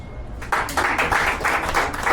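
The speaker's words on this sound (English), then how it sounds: "Can you give him a round of applause, ladies and gentlemen?" Crowd applause breaks out after a short lull, a steady wash of many hands clapping at a speech event that stays strong for about a second and a half.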